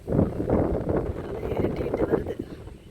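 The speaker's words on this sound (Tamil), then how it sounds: "காற்று பயங்கரமாக அடிக்குது." Strong wind gusts through a garden under gathering rain clouds, buffeting the microphone with a rough, surging rumble that rises and falls over a few seconds.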